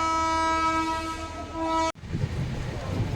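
Kochuveli Express leaving Botad on its Bhavnagar to Ahmedabad broadgauge run: a loud, steady horn blast for about two seconds, then it cuts off into rolling wheel rumble and rattling carriages.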